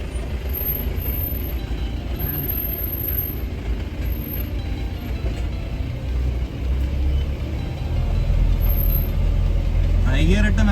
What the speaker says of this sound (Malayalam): ഒരു ജീപ്പ് പോകുന്നതാണ് നമുക്ക്.